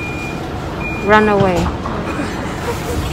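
A city bus on a street in Norway pulls past with a rising engine and tire roar and a steady beeping signal tone, while people talk close by over steady traffic noise.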